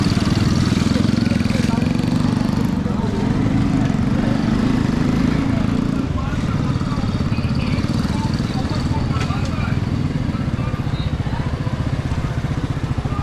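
A motorcycle engine idles with a steady low rumble on a rainy street, loud and continuous, with traffic and street noise around it and someone talking over it.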